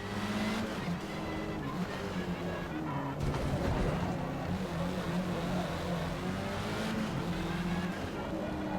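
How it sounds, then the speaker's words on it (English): A race car engine in Forza Motorsport roars steadily at high revs, shifting pitch as it accelerates and slows through hairpins, loud and continuous. "I do love the soundscape of this game so far. Each car sounds different and unique"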